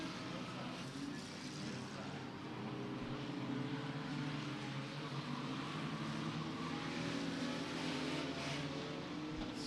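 Enduro race cars circling Beckley Motor Speedway, a continuous engine drone from the pack running down the back straightaway, heard at a distance beneath commentary.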